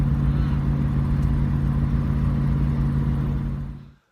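Triumph Stag V8 driving through Australian countryside, a loud steady low engine burble and road drone heard from inside the car that holds evenly for several seconds before cutting off abruptly.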